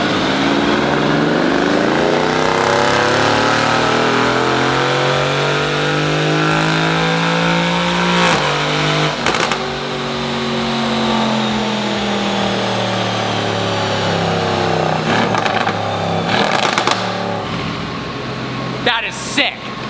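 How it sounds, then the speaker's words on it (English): A Mercedes-AMG GT R engine revs loudly and aggressively, its pitch climbing and falling in long sweeps with sharp exhaust cracks, while people talk excitedly over it. "Oh my God, does the AMG GTR sound savage."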